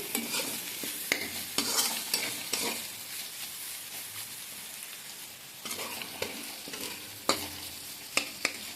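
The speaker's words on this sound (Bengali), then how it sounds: "একদিকে চিকেন ভাজা হচ্ছে" Chicken and potatoes fry in separate pans, giving a steady close sizzle broken by sharp scrapes and taps of stirring. No one talks.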